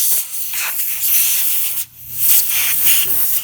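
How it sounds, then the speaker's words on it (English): Canned air spraying to blow dust out of a 2017 Dodge Charger key fob remote, a loud close hiss in two bursts with a brief break between them. "I'm just going to take a bit of canned air,"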